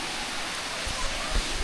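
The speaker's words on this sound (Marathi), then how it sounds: "इकडून पण मस्त असं वाटतं धबधबा." A waterfall seen from above produces a constant broadband rushing roar that fills the outdoor air, steady throughout, with a few soft low thumps near the end.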